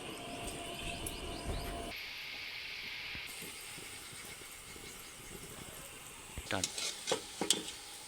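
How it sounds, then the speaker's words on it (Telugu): Gulab jamun deep frying in oil give a dense bubbling sizzle that drops to a quieter steady hiss, then a few louder clatters of a utensil toward the end; no speech. "రౌండ్గా చేసుకున్న గులాబ్ జాముని డీప్ ఫ్రై చేసుకుంటున్నాం"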